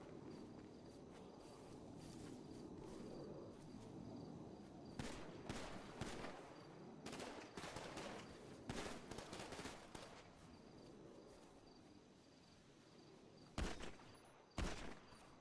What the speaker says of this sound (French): Ça continue à tirer au-dessus.